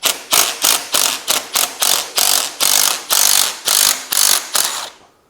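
A ratchet loosens a 9/16 nut on the gearbox mount of a Scrambler 500, about a dozen loud, close clicking strokes in a steady rhythm, each burst followed by a short pause, ending abruptly.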